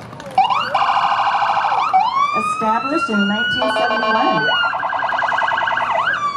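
Olympic Ambulance Service ambulance rolling through an intersection during the 120th Sequim Irrigation Festival parade, its loud electronic siren cycling between wail and yelp patterns up close while an announcer talks over it.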